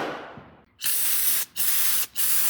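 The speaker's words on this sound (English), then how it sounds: "We'll spray this." An aerosol spray can of cleaner is blasted onto parts of a Generac GP6500 or GP7500 generator carburetor in three close, loud hissing bursts separated by brief pauses, with no talking.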